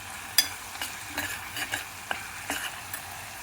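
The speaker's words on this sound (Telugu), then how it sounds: "ఉల్లిపాయలు పచ్చిమిరపకాయలు టమాటా అంతా దూరగా వేగాలండి." Onions, green chilies and tomatoes fry in a pan for an aloo and soya curry, a soft steady sizzle broken by repeated scraping stirs, close and moderately quiet with no talking.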